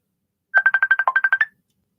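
A single loud burst of a computer ringtone: about ten quick, evenly spaced electronic chirps that dip briefly in pitch near the end, then stop, with silence on either side.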